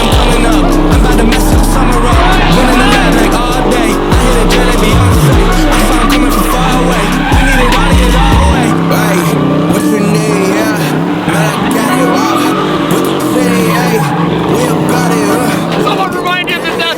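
A fake Hoonicorn Mustang roars at full throttle with tires squealing and skidding, loud and close throughout, while people shout and talk over it.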